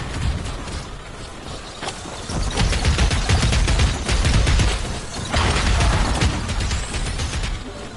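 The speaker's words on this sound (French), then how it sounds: "Faut d'abord tirer sur ce petit bouclier. Ok. Avec son laser pour le rafale." In the video game Fortnite, a laser weapon fires in rapid bursts at a shield, giving dense, crackling mechanical rattles that surge and ease across the clip, with no talk over it.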